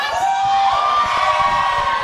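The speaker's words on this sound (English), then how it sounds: "these fans cheering for David Fuller" A crowd at a wrestling match cheers and shouts continuously, a loud, dense roar of voices with high whoops rising above it throughout.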